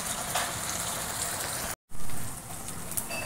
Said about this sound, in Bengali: চলো চিংড়ি মাছটা ভাজা ভাজা হোক।